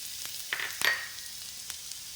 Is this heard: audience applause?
no